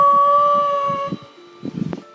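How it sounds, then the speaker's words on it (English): A wolf dog howls in a long, loud, wavering tone that fades, followed by a few softer yips and whines close by. "she'll start howling. And she'll just howl and howl and howl"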